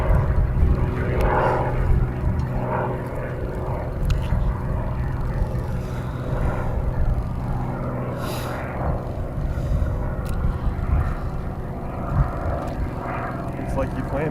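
Aerobatic plane flying a freestyle routine in strong wind, hovering nose-up, its propeller engine droning loud and steady with surging whines, heard outdoors under talk.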